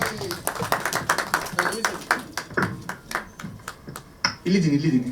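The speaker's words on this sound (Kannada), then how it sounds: "ಜೋರಾಗಿ ಒಂದ್ಸರಿ ಚಪ್ಪಾಳೆ" An audience claps at a film trailer launch event: a run of sharp, fairly even claps from a modest crowd. A voice comes in briefly at the end.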